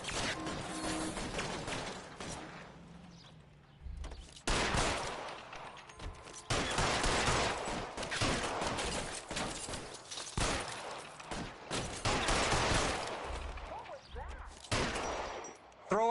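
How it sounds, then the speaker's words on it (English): Gunfire from a shootout with security men in the L.A. Noire video game, heard as loud, repeated bursts of shots with mechanical clatter between them and brief quieter gaps. "Fire a warning round"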